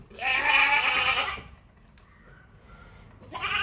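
A dairy goat that has kidded three times and gives two litres of milk bleats loudly and close up in a long wavering call, then falls quiet before a second bleat begins at the end.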